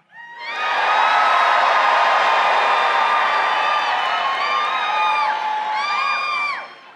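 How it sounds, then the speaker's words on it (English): Conservative political crowd at CPAC cheering, whooping and screaming in a loud, sustained roar that swells quickly and holds for several seconds, with scattered shrill whistles and shouts rising above the mass of voices. "So scream like hell."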